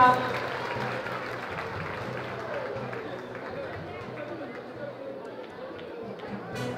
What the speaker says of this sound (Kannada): ನಾವೆಲ್ಲರೂ ಕೂಡ ಒಂದು ಜೋರಾದ ಚಪ್ಪಾಳೆಯೊಂದಿಗೆ ನಮ್ಮ ಈ ಕಾರ್ಯಕ್ರಮವನ್ನು ಬೆಂಬಲಿಸೋಣ